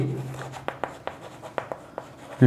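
Math being written out by hand on paper or a board during a Class 6 lesson on LCM and HCF, heard as a series of short, sharp scratchy strokes spaced irregularly, fairly close, with no talking.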